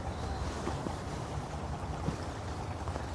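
Water laps and washes softly at the shore, a faint continuous wash with light wind noise and no talking.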